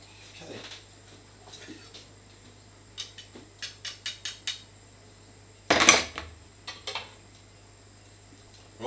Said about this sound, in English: don't forget you have to really give it a stir as well, just so it all spreads